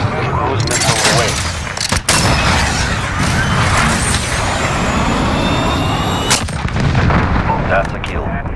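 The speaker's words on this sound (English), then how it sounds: "Cruise missile away." Cruise missile explosions in a Modern Warfare team deathmatch on the Azhir Cave map make a heavy, continuous rumble of booms and distant gunfire that fills the whole stretch, dense and loud.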